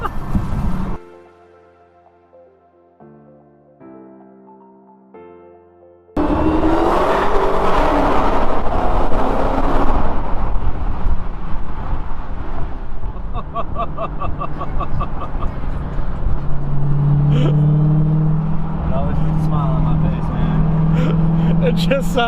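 A 2018 Dodge Challenger Hellcat Widebody engine roars loudly after a short stretch of quieter sound, revving and accelerating hard with a deep, aggressive growl that carries on continuously, while people talk over parts of it.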